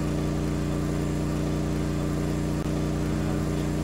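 The engine of a 1974 Allis Chalmers 608 tractor in Farming Simulator 19 runs at a steady, close, constant drone, like an idle, with no voices.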